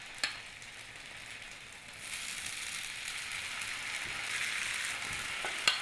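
Fritter batter of peas and arame spooned into hot oil in a pan, a soft steady sizzle that swells after a couple of seconds, with a few faint clicks of the spoon against the pan.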